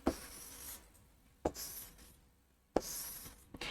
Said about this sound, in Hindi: यहां पे लिख ही लेते हैं LMNO एंड P